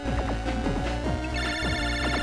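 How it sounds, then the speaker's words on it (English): Ringtone of an incoming phone call in the game Mega Man Battle Network 5, a steady electronic chiming pattern looping over game music for about two seconds, with no talking. "Land, phone call. I'm picking up"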